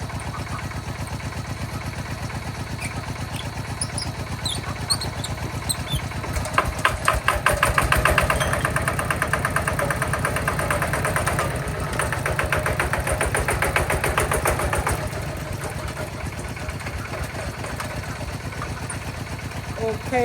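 Engine revving in a vehicle in Thailand, a steady idling rumble that climbs into a louder, pulsing rev burst mid-clip before settling back to idle, with faint background noise throughout.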